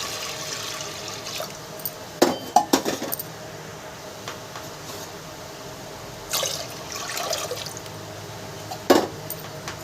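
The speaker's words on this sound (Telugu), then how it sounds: "ఒక గ్లాసుడు పప్పుకి రెండు గ్లాసులు వాటర్ వేసుకోవాలి" Water is poured into a metal pot of lentils for tomato dal in a few short splashing bursts, with clinks of the vessel in between and a low background hum.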